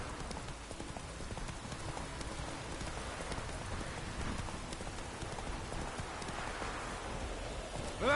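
Hooves of Roach, a horse in The Witcher 3, clip-clop in a fast, steady gallop over a constant rain-like hiss, continuing evenly throughout with no voices.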